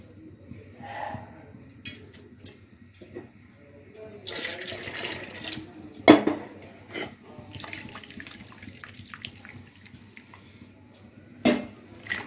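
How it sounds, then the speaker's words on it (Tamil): Water runs and splashes faintly from a tap while a mixer grinder jar is rinsed and water poured, with occasional louder clinks and sloshes of kitchenware. "மிக்சி கழுவி தண்ணி ஊற்றுறேன்"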